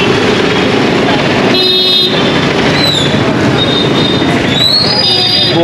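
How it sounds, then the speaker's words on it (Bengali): A train slowing to a stop near Guwahati, with loud continuous rumble and sharp metallic wheel squeals rising and falling in several bursts, some voices faintly audible beneath the noise. "ট্রেনটি জাস্ট এখানে দাঁড়িয়ে পড়লো"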